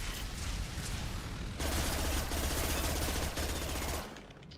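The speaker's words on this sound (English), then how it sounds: "Grenade." Dense automatic gunfire roars through a Mass Effect firefight, joined by a heavier, booming grenade blast partway through, then the clatter thins and fades out near the end.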